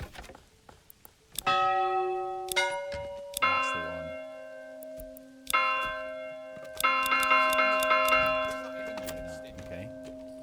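A church bell in the Manor Lords medieval village-building game tolls repeatedly, with overlapping resonant strikes and ringing tails that build in layers while someone speaks briefly.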